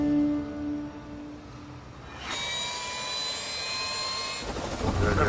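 An air ambulance helicopter flying, its engine and rotor noise a steady broadband roar heard from inside, rising noticeably partway through and again near the end.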